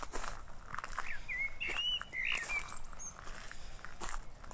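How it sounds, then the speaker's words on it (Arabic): Small birds chirp and tweet in the garden of Ulriksdal Palace in Stockholm, giving a few clear high calls and short trills over soft outdoor background noise and faint footsteps. "وهي صوت العصافير سبحان الله، يعني طول الوقت انت في حواليك موسيقى طبيعيه"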